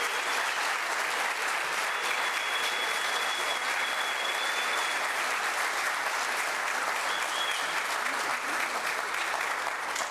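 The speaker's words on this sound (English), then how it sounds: "One more round of applause" Steady, unbroken crowd applause fills the hall at the 2013 Kentucky High School Basketball Hall of Fame induction ceremony, honouring the group of inductees with an even, close wash of clapping throughout.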